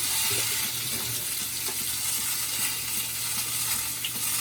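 Cauliflower curry frying in a pan, a dense continuous sizzle with faint stirring clicks, close and steady.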